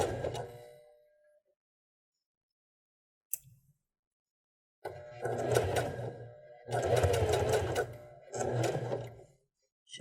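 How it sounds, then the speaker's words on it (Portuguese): Sewing machine stitching a fabric waistband in several bursts of whirring, close and steady, separated by pauses while the fabric is adjusted, with no talking over it. "E é seguindo ele que eu vou costurar e completar a costura do meu cós."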